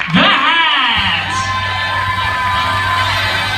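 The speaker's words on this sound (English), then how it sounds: "Give a big round of applause for the one and only Cat in the Hat." A crowd greets the costumed Cat in the Hat at a carnival with loud whoops, children's shouts and cheering, swelling suddenly and then holding as a dense, close roar.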